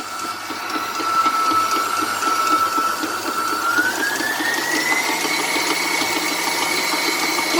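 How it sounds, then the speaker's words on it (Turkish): An electric mixer whips egg whites with a pinch of salt in its bowl for homemade whipped cream, a steady, continuous mechanical whir with a rising pitch as it runs, close and alone without talk. "Ve mikseri çalıştırıyorum."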